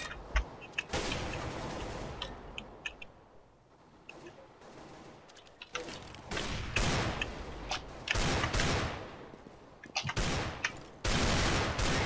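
Rapid gunfire in the video game CS:GO, with dense bursts of automatic shots and sharp single cracks that come in loud clusters separated by short quieter gaps.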